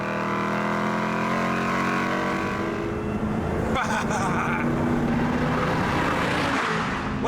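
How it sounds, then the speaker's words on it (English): A sports car exhaust roars loudly as it accelerates, a dense rising engine note with layered harmonics and a brief shift break partway through, heard close and continuous. "there's an exhaust that sounds like someone torturing a lion through stadium speakers"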